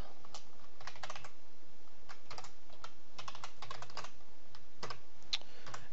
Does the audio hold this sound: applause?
no